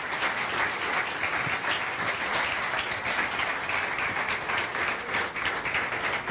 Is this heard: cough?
no